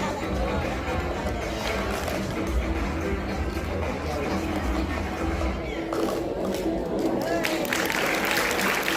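An audience claps and cheers through a school award ceremony, the applause and crowd chatter holding steady and close for the whole stretch.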